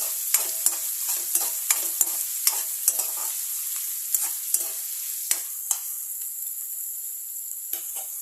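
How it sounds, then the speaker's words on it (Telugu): Thinly sliced onions fry in a pan with a steady bright sizzle, punctuated by light, regular clicks of a spatula stirring them, close and fairly quiet. "సన్నగా కట్ చేసి పెట్టుకున్న ఆనియన్స్ వేసుకుందాం. ఒక 2 minutes ఫ్రై చేసుకోవాలి."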